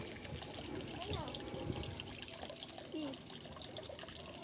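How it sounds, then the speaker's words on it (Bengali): Water runs from outdoors into a basin set up outside, a faint steady trickle and splash with soft background sounds and a voice present at low level. "বাইরে এই যে গামলা পাতিয়ে দিয়েছে এতে গামলা জল হচ্ছে"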